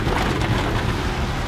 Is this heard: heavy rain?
yes